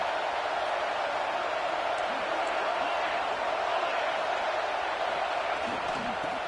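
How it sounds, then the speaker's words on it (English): Stadium crowd at a Penn State vs Michigan college football game, a dense, constant roar of cheering filling the whole stretch, loud and unbroken without distinct claps. "This crowd, full throat, splitting the eardrums"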